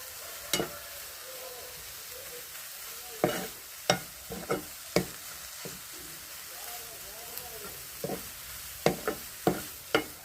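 Ridge gourd peel curry with turmeric and salt stirred in a pan, a spoon scraping and tapping in scattered knocks over a soft, steady frying sizzle, fairly quiet and close.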